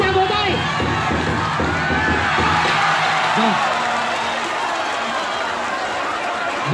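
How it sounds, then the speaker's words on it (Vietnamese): Audience at a men's and women's folk wrestling match in Ninh Hiep gives a loud burst of crowd noise with cheering, whoops and applause, dense and close throughout, with voices shouting over it. "Các khán giả cho một tràng vỗ tay."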